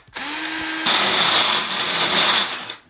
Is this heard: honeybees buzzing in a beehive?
no